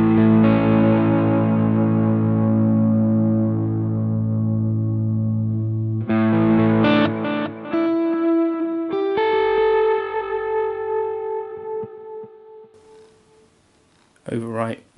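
Electric guitar played through a Boss GX-100 multi-effects unit with reverb applied, sustained distorted chords ringing into a long wash, then brighter picked notes trailing off with echoing decay and a short burst at the end.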